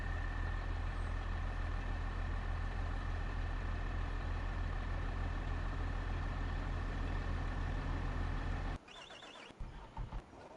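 Tractor engine in Farming Simulator 25, a steady low droning idle that holds unchanged for several seconds, then cuts off abruptly into brief quieter clunks near the end.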